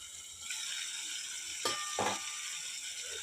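Fish pieces fry in hot oil, giving a steady bright sizzle with a couple of sharper crackling bursts near the end, close up and with no talking.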